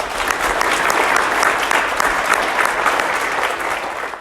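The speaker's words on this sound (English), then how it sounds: "Can we give these people a round of applause?" Steady applause from an audience at a primary school presentation day, dense and sustained clapping throughout with no voices standing out.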